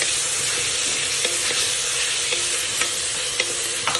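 Chopped tomatoes dropped over softened onions sizzle steadily in a hot pan while a spoon scrapes and stirs, giving a dense, even frying hiss with occasional soft taps and no talking.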